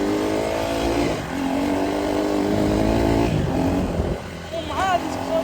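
Dirt bike engine revving hard during a ride, loud and close with rising and falling pitch, the clutch slipping badly, and a rider talking over the noise.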